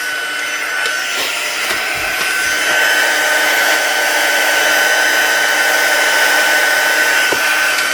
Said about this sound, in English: this is the heat gun I got